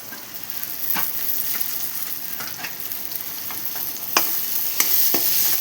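Tomatoes sizzle and get stirred in a hot pan where stuffed brinjal is being cooked, a steady close frying hiss broken by clicks and scrapes of the spoon, with a few sharper knocks near the end.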